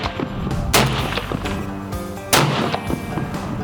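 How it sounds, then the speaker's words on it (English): Hunters fire guns at a Texas ranch, two loud sharp reports about a second and a half apart, each followed by a rolling echo, with quieter background noise between shots. "They're going to shoot their guns."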